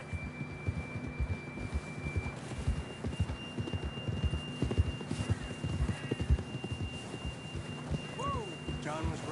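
Horse hooves clip-clop steadily at a riding pace in the Red Dead Redemption 2 video game, close and rhythmic, with occasional faint calls and game ambience around them.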